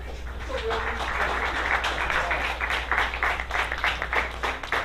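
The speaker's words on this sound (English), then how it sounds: "the applause here is not for the goals, but it's for a very motivational speech given by a parent of one of the academies here" Spectators at a youth football match clap for a parent's speech, a moderately distant, steady patter of applause over a constant low hum, with some voices mixed in.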